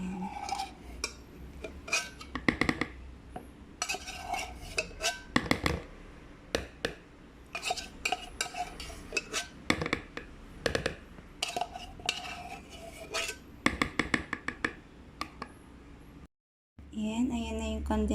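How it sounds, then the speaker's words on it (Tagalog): Condensed milk being stirred into Nestle cream for homemade vanilla ice cream: a utensil clinks and scrapes against a bowl in irregular bursts, with brief speech between strokes and a short silence near the end. "Halo natin sa nestle cream."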